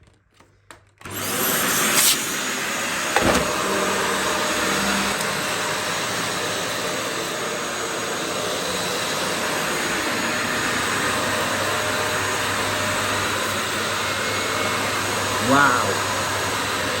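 A Dyson DA001 vacuum cleaner with an upgraded 1300-watt motor starts up and runs steadily at a loud, continuous roar, with a brief knock early on and a slight surge near the end.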